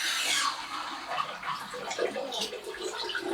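Kitchen tap water running steadily in a domestic kitchen, a broad continuous hiss and splash that stays fairly even throughout, with faint voices in the background.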